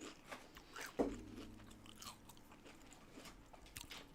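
Close, quiet chewing of crunchy breakfast food, with a sharp bite near the start followed by soft irregular crunches and mouth sounds.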